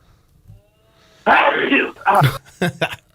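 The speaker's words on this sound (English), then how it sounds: "He sneezed mid-interview last week." A sharp, explosive sneeze bursts out close by, followed by a couple of shorter snorting, throaty bursts in quick succession.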